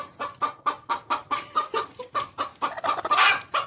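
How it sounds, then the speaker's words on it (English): A broody hen gives a steady string of low, rhythmic clucks, about three per second, close by, ending in a louder, agitated squawk. "We have a broody hen here"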